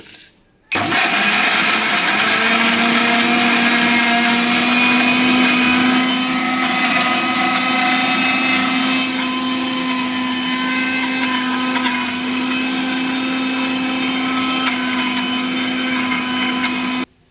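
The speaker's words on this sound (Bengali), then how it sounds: "ব্লেন্ডারে আদা রসুন জিরা দিয়ে নিলাম একটু পানি" An electric blender grinds ginger, garlic, cumin and a little water, starting with a sudden loud whir and holding a steady high motor whine close by for about sixteen seconds without pause.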